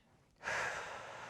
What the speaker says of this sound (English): Breathe in